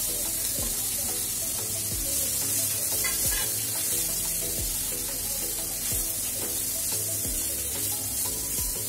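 Raw papaya pieces frying in hot ghee give off a loud, continuous close sizzle, with regular scraping knocks of a spoon stirring throughout.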